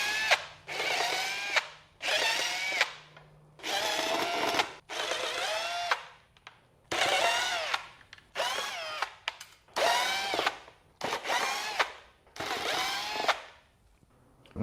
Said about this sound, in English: So we'll go ahead and remove the 10 screws.